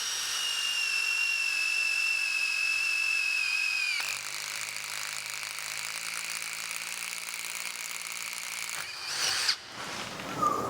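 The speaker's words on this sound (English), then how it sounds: "what we call an 8mm step tip impact drill" An 8mm step tip impact drill bores through 10mm mild steel with lubricant, giving a steady high-pitched whine for about four seconds that drops into a lower continuous grinding hum, ending in a few brief scraping bursts.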